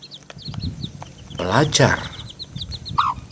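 Baby chicks peep in quick, high, repeated chirps all through, close by, while a person talks over them in the middle.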